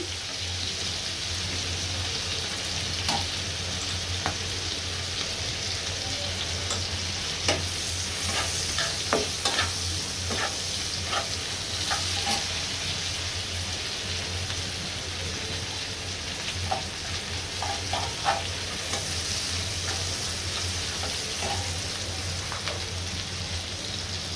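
Shrimp fries with chopped onion, green chili and salt, a continuous hiss of oil overlaid with scattered clicks and scrapes of stirring throughout, with no speech.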